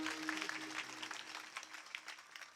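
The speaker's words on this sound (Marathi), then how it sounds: "एकदा गायक वादकसाठी जोरदार टाळ्या वाजवा." An audience at a comedic Marathi kirtan gives a burst of applause for the singer and musicians, a dense clatter of many hands over a steady held drone note.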